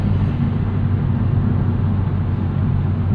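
Turbocharged 2009 Chevrolet Cobalt SS cruising under boost, a steady loud low engine drone with constant road and cabin rumble, no voices.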